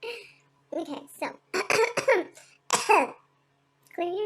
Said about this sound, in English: So what you gotta do is cough. Light cough.